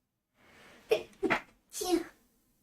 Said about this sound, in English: Excuse me for sneezing my head off.